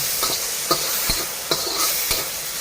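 Mixed vegetables and pork stir-frying in a pan with sauce, a bright continuous sizzle broken by several quick spatula scrapes and tosses, close up with no talking.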